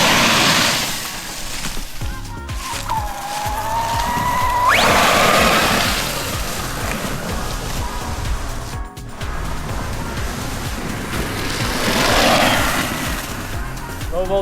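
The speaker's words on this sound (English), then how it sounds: "let's tip it up to the dirt and spin a little dirt before we go" An Arrma RC car running on a Turnigy BoltX LiHV battery spins its tires in dirt, giving loud whirring motor surges that rise and fall, with a sharp rising whine and gritty spray over windy outdoor noise.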